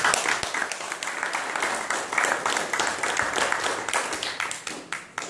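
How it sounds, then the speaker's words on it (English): Audience applause at an awards ceremony, a steady wash of many hands clapping that holds loud for the whole stretch with scattered sharper claps standing out. "So let's give him a round of applause."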